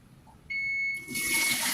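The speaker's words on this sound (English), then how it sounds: "Well, that's the bell for the other eggs." A steady electronic tone from an electric egg cooker's timer sounds for about half a second, then is swamped by a loud rush of running water close by.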